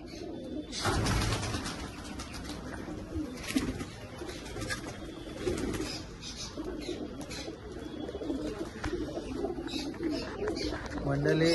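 Pigeons coo in a pigeon loft in Panvel, low soft calls that repeat over a faint flutter, mostly beneath ongoing conversation.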